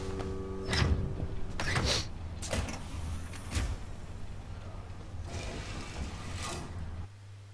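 A mechanical door in the survival horror game Alien Isolation slides open with a whirring, hissing motorized sweep over a low ambient game hum, several clicks and servo bursts spread through the stretch.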